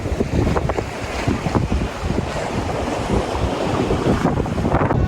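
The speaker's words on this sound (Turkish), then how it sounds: "Aşırı rüzgarlı rüzgar." Strong seaside gusts buffet the microphone in a loud, continuous roar, with waves washing in the background, in Çeşme, Turkey.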